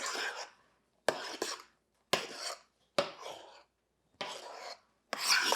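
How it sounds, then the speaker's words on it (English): A spoon folds whipped egg whites into a pumpkin and egg-yolk batter for keto pumpkin spice cupcakes, making six soft, close scraping strokes with brief pauses between them and no talking. "So the egg whites I will fold in 1/3 at a time to the pumpkin egg yolk mixture."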